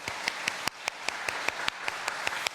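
Congregation at a Friday prayer service in a Korean church clapping together to encourage the worship team, sharp rhythmic unison claps at a steady beat filling the hall.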